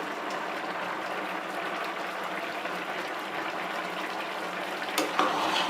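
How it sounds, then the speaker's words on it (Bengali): Chicken khichuri being stirred in a pan after ground coriander, cumin paste and ginger paste go in, a dense, even, wet sizzle and churning that runs steadily up close, with no speech. "ভালো করে নাড়িয়ে চাড়িয়ে নেব"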